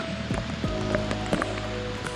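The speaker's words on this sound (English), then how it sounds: "and that's when it rained." Rain falls on a mountain trail, with scattered close drops pattering irregularly over a steady wet background hiss.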